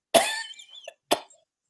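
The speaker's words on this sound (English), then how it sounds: "if I could ever stop coughing" A middle-aged man coughs twice, one harsh cough followed by a shorter one, both close and loud, with quiet breathing between them and no talking.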